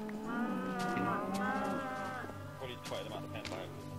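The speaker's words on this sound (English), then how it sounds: "Why is there a random cow here?" In the video game Minecraft a cow gives a long, drawn-out moo, followed by shorter lowing sounds, while someone talks over it.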